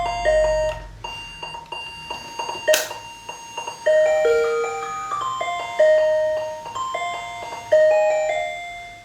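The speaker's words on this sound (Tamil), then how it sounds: "இப்போ இந்த 16 சவுண்டையும் நம்ம வந்து ஒன்று ஒன்றா கேட்டுடலாம்." Fybros Flora 16-in-1 AA battery-powered doorbell chime playing a bright electronic melody of stepped, ringing tones, loud and close, with several phrases restarting in sequence and no talking.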